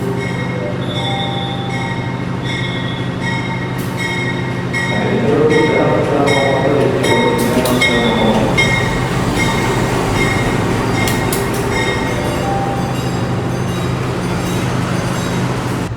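A passenger train on the Purwokerto to Bandung southern line in Indonesia rolls along the rails with a steady rumble, wheels clattering and occasionally squealing, growing louder midway and continuing throughout.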